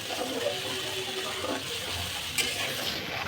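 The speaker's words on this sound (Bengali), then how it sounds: "দইটা ভুনতে হবে দইটাকে ভুনে নিতে হবে" Yogurt with garam masala frying (bhuna) in a pan for raw jackfruit korma, a steady soft sizzle with faint stirring, close and continuous without talk.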